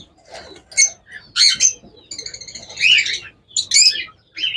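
A pair of blue Fischer's lovebirds trade sharp, high chirps and squawky calls in quick bursts, close and clear, with short pauses between the calls and no talk.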